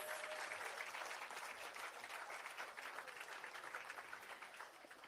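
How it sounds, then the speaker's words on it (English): An outdoor audience at a bridge opening in Spring Village, Spanish Town, St Catherine, applauds. Dense, continuous clapping from many hands holds steady, then eases slightly near the end. "Una can clap them one more time, please."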